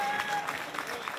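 Audience clapping at a Serie D football club presentation event for Colligiana, a short, moderately faint patter of applause with a faint tonal whistle early on.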